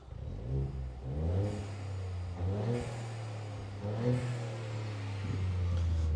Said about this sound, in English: So we'll give it a few little blips, look.